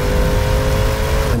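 A 2019 Jaguar F-Pace SVR with a variable valve active exhaust revs and roars in one sustained, loud, close engine tone that cuts off abruptly at the end.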